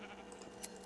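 A sheep bleats in the Minecraft (Feed The Beast) video game, a brief, faint wavering call over a steady background hum.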